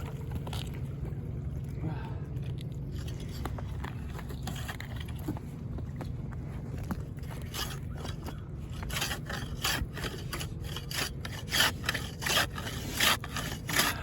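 A hand saw cuts through wood with steady scraping, rasping strokes that grow louder and more pronounced toward the end, close by, with low background rumble and a voice briefly talking.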